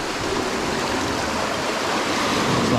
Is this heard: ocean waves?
yes